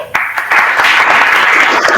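Dense, loud applause from an audience at a water and climate webinar for a presenter, swelling quickly after a short pause and holding steady as a continuous wash of clapping.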